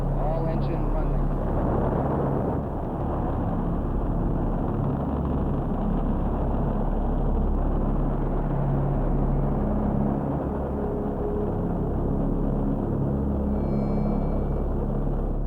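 Saturn V rocket engines roar at launch, a loud, steady, dense low rumble that fills the whole stretch without a break.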